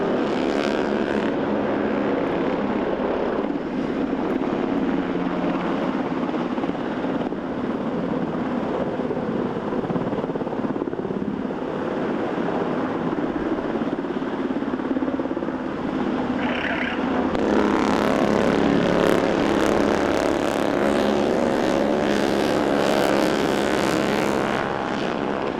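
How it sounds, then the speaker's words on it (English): An MH-60 Black Hawk helicopter flies over a channel during a special operations demonstration, a continuous distant rotor and engine roar that holds steady and swells slightly louder near the end. "Black Hawk helicopter with special operators from Colombia and the United States conducted a helocast insertion into the channel"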